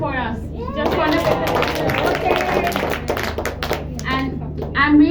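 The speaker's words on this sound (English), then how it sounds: "So I think we can have a very loud clap for us." An audience clapping at a talk or workshop, a burst of scattered hand claps mixed with chatter and voices nearby.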